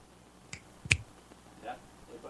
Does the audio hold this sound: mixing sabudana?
no